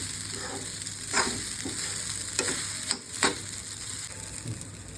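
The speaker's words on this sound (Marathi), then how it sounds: "परतून घ्यायचे अजून 2 मिनिटं" Sabudana khichdi sautéing in a pan, with a continuous soft sizzle and occasional scraping stirs of a spatula, close and steady with no voices.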